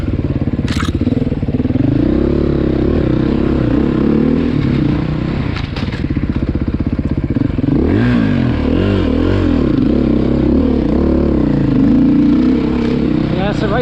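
A 2020 Beta 500 dual sport motorcycle ridden off-road, its engine droning loud and close throughout with revs rising and falling and occasional clattering knocks, under wind noise.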